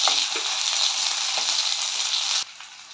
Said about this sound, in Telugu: ఎర్రగడ్డలు పింక్గా వచ్చేంత వరకు ఫ్రై చేసుకోవాలి